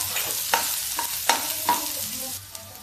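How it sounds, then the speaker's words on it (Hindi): Garlic and onion fry in a pan for a dhaba-style spinach dal, giving a continuous sizzle with a few sharp crackles and stirring scrapes close by. "अब इसको हम फ्राई करेंगे।"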